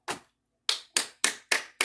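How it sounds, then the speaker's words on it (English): Six sharp hand claps ring out alone, close and crisp, the first standing apart before a short pause and the other five following in a steady, quick rhythm. "I had to clap for y'all."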